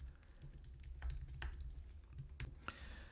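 Keys on a computer keyboard click in a quick, uneven run at close range, with short pauses between bursts and no voices.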